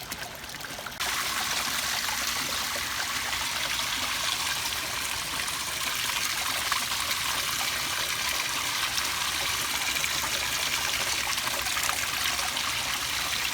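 Water from a koi pond in early spring, running and trickling steadily in a continuous, close splashing wash that starts suddenly after a second and holds evenly throughout.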